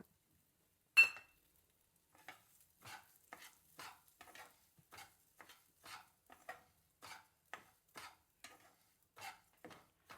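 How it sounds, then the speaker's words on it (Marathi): Broken wheat (daliya) roasting and being stirred in ghee in a pan, heard as a sharp clatter followed by a steady series of soft, scraping stir strokes close by, with no talking. "तो आपण भाजून घेऊया ह्याच तुपामध्ये व्यवस्थित"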